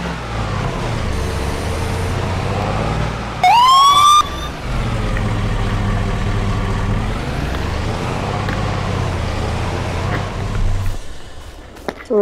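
A wailing emergency vehicle siren in the video game Farming Simulator 22 rises and falls continuously, with a brief sharp whoop partway through, fairly loud and steady against a low rumble.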